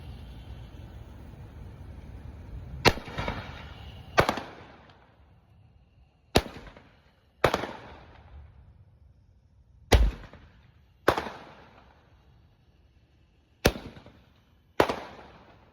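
Consumer firework cake firing a series of shots, with about eight sharp, loud cracks at irregular intervals, each followed by a fading crackle, outdoors and without talk.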